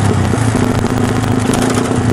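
A Yamaha Scorpio bobber motorcycle engine rumbles steadily at close range in a short burst, a dense, constant throaty drone during a night test ride.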